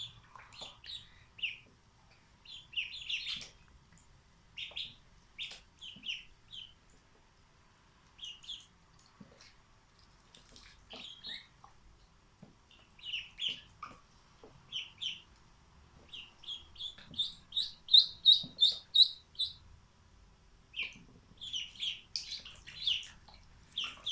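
Ducklings peep in bursts of high, thin chirps, sometimes in quick rapid series, fairly close against a quiet background, with pauses between the calls.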